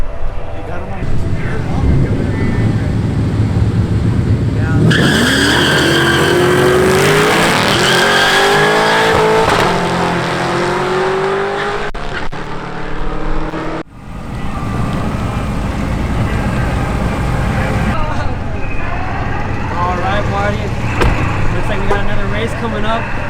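A Dodge Charger Scat Pack roars past at a drag strip, rising in pitch as it accelerates away, with crowd chatter and background engine noise.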